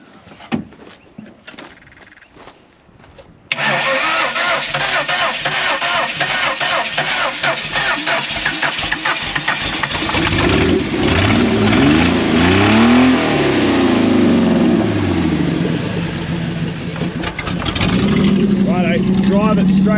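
A Holden LC Torana engine cranks over, catches and revs hard at close range, its loud roar rising and falling with repeated throttle blips, while people talk around it.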